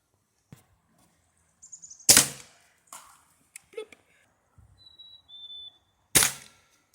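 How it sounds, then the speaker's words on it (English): Ruger Targis Hunter Max .22 caliber pellet gun fired at targets: two sharp, loud cracks a few seconds apart, with a few fainter clicks and small handling noises between them. "So we're just going to shoot some more targets here."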